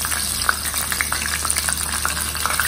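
Vada and a slit chili fry in hot oil at a Mumbai vada pav street stall, with a steady loud sizzle and frequent small pops and splutters close by.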